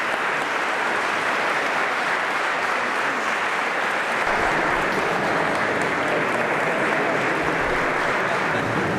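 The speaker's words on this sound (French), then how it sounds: "Et vous pouvez l'applaudir aussi." Wedding guests at a baptism ceremony break into loud, sustained applause for a newly baptized child, a dense continuous clapping that fills the room from start to finish.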